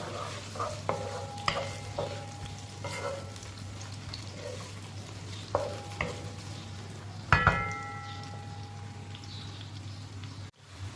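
Two to three medium chopped onions sizzle and crackle steadily in a hot pan, with occasional stirring clinks and scrapes over a constant low hum.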